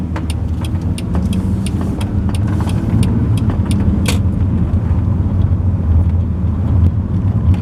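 A big Volvo with an automatic gearbox accelerates at full throttle, its engine roaring loudly and steadily and building in intensity, heard close up from inside the car.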